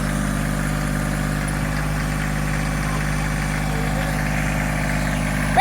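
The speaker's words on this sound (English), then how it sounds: "Rachel's driving Daddy's new tractor" A new tractor's engine idles close by, a loud, steady low rumble with constant vibration and no break.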